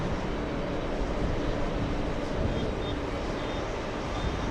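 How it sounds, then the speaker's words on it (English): An Egyptian airliner takes off down a runway at JFK airport, its jet engines a steady, broad distant roar that holds evenly throughout, with faint higher whine tones drifting above. "the Egyptians are already off. They're racing down the runway"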